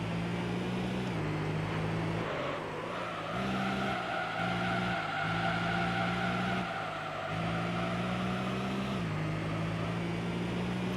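A car in Gran Turismo Concept 2002 drives hard with its engine droning and shifting while the tyres hiss and squeal through a slide, steady and close, with no voices.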